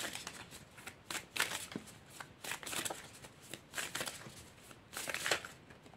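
Tarot cards being shuffled close up, a steady run of soft riffling and slapping card sounds, fairly quiet, with no talking.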